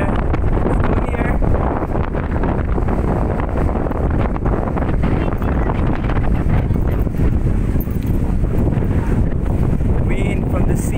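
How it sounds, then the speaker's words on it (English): Strong sea wind at the Bangui wind turbines in Ilocos Norte roars and buffets the microphone continuously, a loud, steady rumbling rush with no break. "It's so windy. It's really, really windy."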